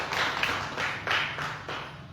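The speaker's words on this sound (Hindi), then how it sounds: "ताली बजा रहे यीशु के लिए।" A church congregation claps together in praise of Jesus, a rhythmic run of crowd claps landing in an even beat, moderately loud and fairly close, with no speech over it.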